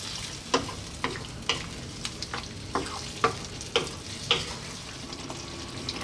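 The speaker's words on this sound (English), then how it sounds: "Give it a stir every now and then." A Greek-style vegetable stew with potatoes simmers and gets stirred in a pot, and a spoon knocks the sides in sharp, irregular scrapes and clacks over a soft, steady bubbling sizzle.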